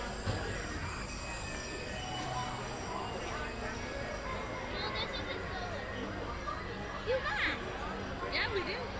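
Heimlich's Chew Chew Train, a small ride train at Disney California Adventure, rumbling along its track with squealing wheels, while people chatter and children's voices rise around it.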